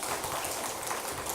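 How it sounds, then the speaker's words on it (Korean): A church congregation applauding the volunteers who repaired the building: a dense, even wash of many hands clapping together, steady and moderately loud, with no gaps. "사랑의 봉사들이 박수 한번 해요"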